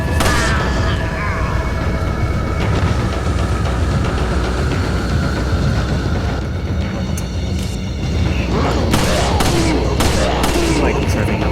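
Rapid gunfire and booms in Resident Evil 4 on Professional mode, dense and loud throughout with sharp shot transients piling up near the end, over continuous game noise.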